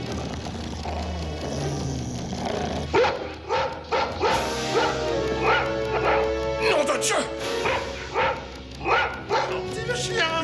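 A dog yips and barks in short repeated bursts, close and loud, while someone speaks over it.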